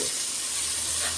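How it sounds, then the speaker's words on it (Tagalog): Chili hitting a hot pan gives a steady, close hissing sizzle with no break, and nobody is speaking. "Ilagay ko na yung sili."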